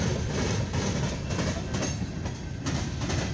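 A long CSX empty coal hopper freight train rolls past close by, a loud continuous rumble with rhythmic clattering of wheels over rail joints.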